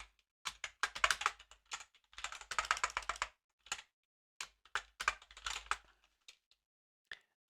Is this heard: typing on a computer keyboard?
yes